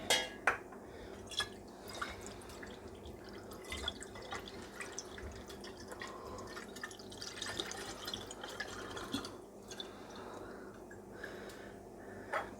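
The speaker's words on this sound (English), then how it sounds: "pouring is easy" Liquor trickles and drips steadily from a large bottle into a dish in a kitchen, a soft continuous splashing with small plinks, close and fairly quiet, with no talking.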